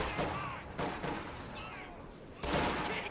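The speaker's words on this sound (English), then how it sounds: "Machine gun opened up on us!" Machine gun fire in a wartime video game, several loud bursts of rapid shots rolling over a noisy battlefield, with shouted voices mixed in.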